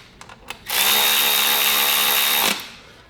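A power tool runs in one loud, steady burst of about two seconds while tightening the front axle pinch bolts on a dirt bike, then cuts off, with faint clicks before it.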